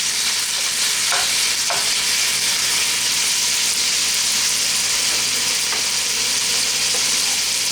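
Ground meat sizzling in a pan for homemade Hamburger Helper, a loud continuous hissing fry with a few faint scrapes of stirring, close by and without talk.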